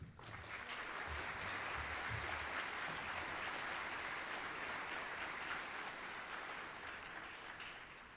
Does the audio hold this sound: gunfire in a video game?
no